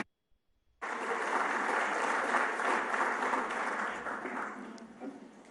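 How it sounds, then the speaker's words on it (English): An audience at an investment summit in London bursts into applause for a government minister after a brief silence, a full, sustained round of clapping that gradually tapers toward the end. "please give me a rousing round of applause for the Minister of Foreign Affairs and Regional Integration, Honourable Shirley Ayorkor Botchwey."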